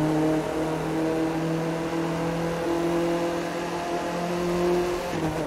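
A car driving in the racing game The Crew 2, with a steady engine drone holding a constant pitch and no talking.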